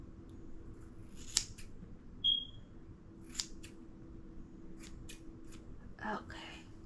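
Scissors snip through synthetic wig hair in a quiet room, making a handful of crisp, separate cuts spaced irregularly over several seconds.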